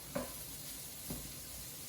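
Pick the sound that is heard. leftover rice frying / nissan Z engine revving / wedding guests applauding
leftover rice frying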